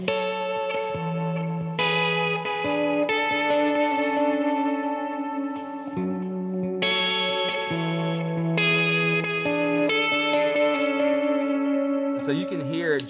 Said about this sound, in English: the vibrato effect is